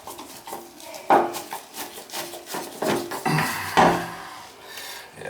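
A tub drain stopper is unscrewed from the drain with close, repeated metallic scraping and rasping twists in uneven bursts, with no voices.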